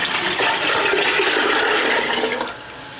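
A gallon of water gushes steadily into a soup pot for about two and a half seconds, loud and close, then tapers off quickly.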